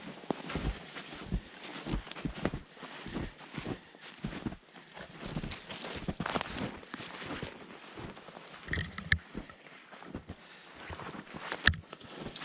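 Footsteps crunching through snowy woods, an irregular series of soft close steps with occasional louder crunches, walking at a steady unhurried pace with no voices.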